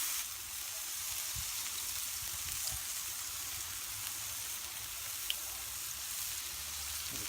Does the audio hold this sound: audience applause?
no